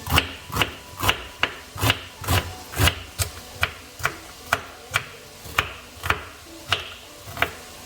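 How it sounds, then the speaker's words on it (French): A kitchen knife chops fennel on a cutting board while preparing a detox soup: about sixteen crisp, evenly spaced chops, close and steady, with no talking. "Je découpe aussi le fenouil."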